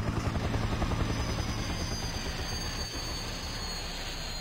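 Helicopter rotor drone in Farming Simulator 2015, a steady, loud chopping whir running continuously on its own with a slight dip near the end, no talking over it.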